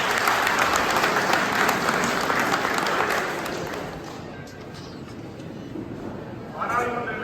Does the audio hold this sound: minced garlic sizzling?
no